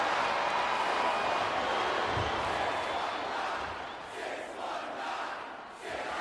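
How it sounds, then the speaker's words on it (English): Loud, sustained arena crowd roar and cheering in the WWE SmackDown vs. Raw 2008 video game during an Undertaker vs. Rey Mysterio Last Man Standing match, steady and dense throughout. "He's got this crowd solidly behind him."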